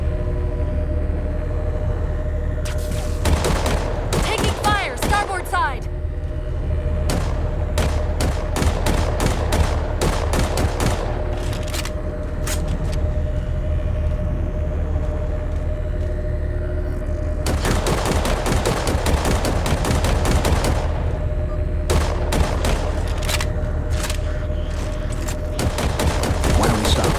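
Dense bursts of automatic gunfire crackle through a sci-fi firefight in the video game Halo 4, volleys repeating in clusters over a steady low rumble, loud and close throughout.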